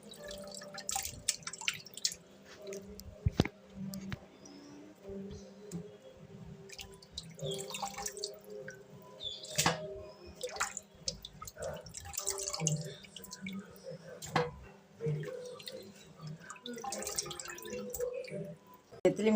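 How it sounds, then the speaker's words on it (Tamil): Anchovies being rinsed in turmeric water for a fry, with drips and splashes of water in a sink amid kitchen handling sounds and some talking, at moderate level throughout. "நெத்திலி மீனை நல்லா மஞ்சத்தூள் போட்டு அலசி எடுத்துக்குவோம்."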